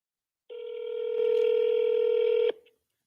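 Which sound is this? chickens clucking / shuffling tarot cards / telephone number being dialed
telephone number being dialed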